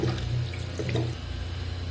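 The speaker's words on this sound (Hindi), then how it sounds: "मसाले डालने के बाद अभी इसमें पानी डाल दूँगा।" Water poured into a cooking pot of meat with turmeric and spices on a home stove, a continuous close splashing stream with a low hum beneath.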